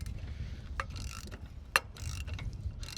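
A wrench works a nut loose on a small skiff's boat trailer, giving a few short metallic ratchet clicks and one sharp clank over low outdoor rumble.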